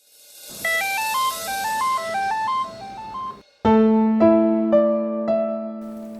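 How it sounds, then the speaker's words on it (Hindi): A telephone rings with an electronic melodic ringtone in a domestic drama scene. It plays a repeating stepped tune, then shifts into louder sustained tones, close and clear with no talking over it. "फोन आ रहा है।"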